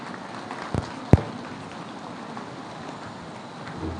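Steady rain falling during an outdoor public gathering, a dense even hiss throughout with two sharp knocks near the start and no voices.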